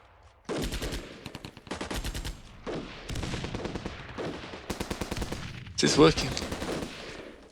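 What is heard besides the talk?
gunfire and grenades in video game Armored Brigade II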